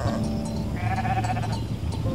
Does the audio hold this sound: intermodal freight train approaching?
no